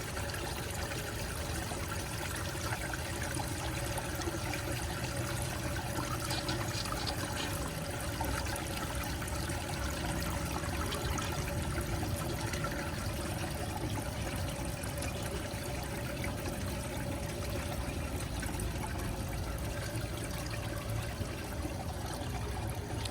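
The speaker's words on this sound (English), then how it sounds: "Flush is still going." Briggs Beautyware toilet with a siphon jet flushing: faint, steady trickle and flow of water running continuously, without any voices.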